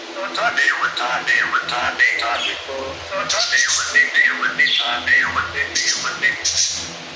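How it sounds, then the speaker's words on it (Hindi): A pet myna bird calls again and again in a home. Its chirps and whistled notes come close and fairly loud, and they overlap with talk. "जिस पे हमारी मैना बोलती जा रही है"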